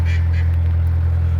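A duck quacks by a canal, two short nasal calls near the start, heard over a loud, steady low engine drone from a narrowboat.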